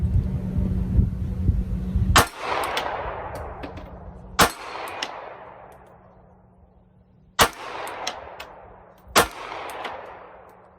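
Four sharp pistol shots fired with a Shield Arms S15 magazine and 5-round extension, spaced irregularly, each with a loud crack and a long ringing outdoor decay, over a low steady hum.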